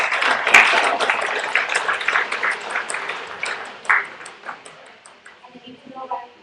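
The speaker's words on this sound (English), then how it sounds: "Go ahead, now you can applaud." Congregation applause at a Shabbat confirmation service, a moderate patter of hand clapping from a seated audience that gradually thins and fades over several seconds, with a voice speaking briefly near the end.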